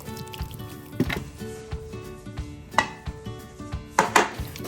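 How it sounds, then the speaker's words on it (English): Cubed tofu tossed with cornstarch in a bowl, heard as irregular knocks and scrapes of utensil against bowl with soft shuffling between, several sharper clacks standing out, close and moderately loud with no talk. "Then we're going to toss this with 4 tablespoons of cornstarch and make sure all the pieces are coated evenly."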